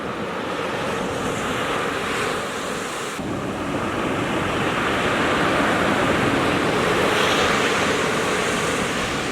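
Continuous roar of ocean surf crashing and washing in, loud and close, with wind buffeting the microphone throughout.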